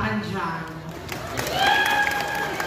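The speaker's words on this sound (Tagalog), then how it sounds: "Wala po bang palakpakan dyan?" Audience applause at a Miss Gay Eco Friendly coronation night pageant, a short loud burst of crowd clapping and cheering mixed with speech and music tones.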